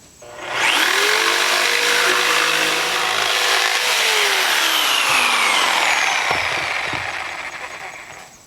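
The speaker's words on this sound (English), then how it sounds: "I'm running this jigsaw off my inverter, off my battery, off my solar panels" Jigsaw running off an inverter and solar batteries while cutting cedar siding, a loud buzzing motor whine starting abruptly, holding steady for several seconds, then winding down with a few short bumps at the end.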